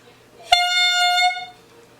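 A single sustained reedy note from a clarinet mouthpiece with the barrel attached, clear and close, starting with a sharp attack and held for about a second before stopping.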